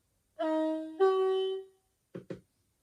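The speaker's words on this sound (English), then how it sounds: "Function 9 is the two-tone horn" A two-tone horn from the DCC sound decoder of an Accurascale Class 60 model diesel locomotive in DC Railfreight livery: two loud, clear sustained blasts, one pitch then another, followed by two brief soft clicks.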